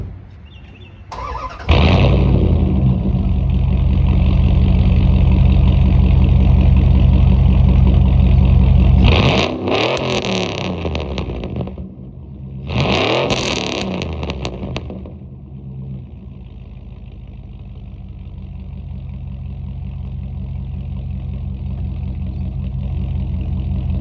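V8 engine fitted with new 5.2/5.9 Magnum headers, starting up and settling into a loud, rumbling idle, with two sharp throttle revs midway before dropping back to a steady growl close by.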